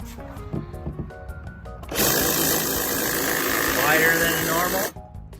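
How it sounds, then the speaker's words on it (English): A Milwaukee M12 brushless cordless 8-inch hedge trimmer runs loud and close for about three seconds with a steady buzzing whir, then cuts off, with quiet handling noise before and after. "Quieter than the normal hedge trimmers that you have to get with the gas powered."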